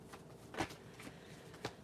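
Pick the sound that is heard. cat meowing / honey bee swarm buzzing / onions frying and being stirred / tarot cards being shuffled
tarot cards being shuffled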